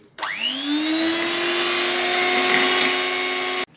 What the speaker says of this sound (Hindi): और अब हम इसे फिर एक बार अच्छे से बीट कर लेंगे।